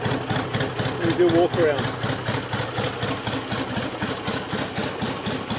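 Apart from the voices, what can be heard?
1963 BSA Rocket Gold Star motorcycle engine idling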